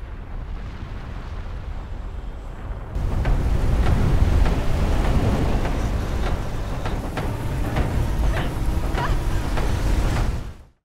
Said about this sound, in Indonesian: Ia pun melihat sebuah badai yang muncul di tengah gurun